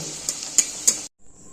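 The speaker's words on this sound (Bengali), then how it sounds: "এইভাবে সব কটা লুচিকেই আমি ভেজে তুলে নেব।" Semolina and potato masala luchi deep-frying in hot oil, a steady close sizzle with three sharp stirring clinks of a utensil against the pan, then cutting off abruptly.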